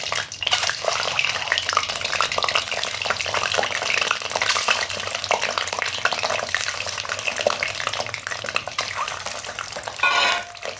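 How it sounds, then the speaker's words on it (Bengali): Boiled eggs frying in hot mustard oil for egg masala, a loud, dense, continuous crackling sizzle close up, with a few stirring scrapes and a louder spattering burst near the end. "এখন আমি তেলের মধ্যে একটা একটা করে ডিমগুলো সব দিয়ে দিচ্ছি"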